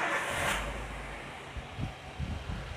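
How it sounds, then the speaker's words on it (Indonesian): Car engine being started and settling into idle while an engine analyzer is in use, a brief whoosh followed by a low, steady rumble with a few soft knocks. "engine on, IG on. Kita hidupkan."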